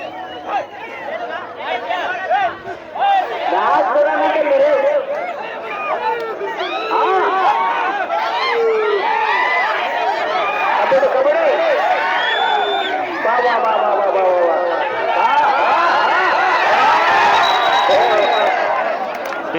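Crowd at a kabaddi final match, loud continuous shouting, cheering and whistles from many voices, with chatter throughout and rising excitement.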